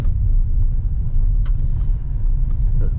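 A steady, close low rumble of a 2020 KIA Cerato with 85,000 km on it while driving, heard from inside the car as a constant road and engine drone.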